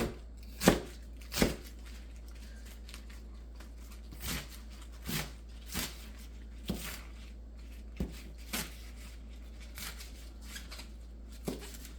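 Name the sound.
chopping bok choy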